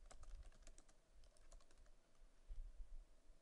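Steady typing on a computer keyboard, a quick run of close, faint key clicks with short pauses and no talking.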